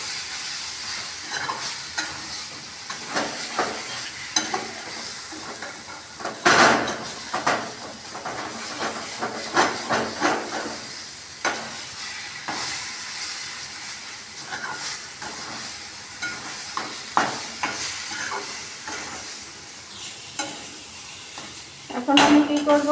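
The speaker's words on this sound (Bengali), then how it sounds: "কড়াইতে মশলাগুলো লেগে যাচ্ছে, সেজন্য আমাকে একটু কী করতে হবে, ভালো করে নাড়াচাড়া করতে হবে যাতে সয়াবিনের সাথে এই মশলাগুলো মিশে যায়।" Spices cooked with soybean chunks and potato are stirred in a wok over a steady frying sizzle and hiss, with repeated scraping strokes of the spoon throughout.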